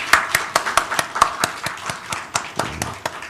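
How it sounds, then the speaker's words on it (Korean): Scattered clapping from a small church congregation, a few distinct hand claps in loose rhythm rather than a full roar, fairly close and with no talk over it. "오늘 우리 주방 봉사를 위해서 수고하시는 분들을 위해서 박수로 한번 우리 격려하도록 하겠습니다."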